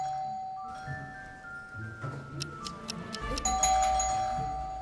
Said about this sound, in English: Let's take a doorbell.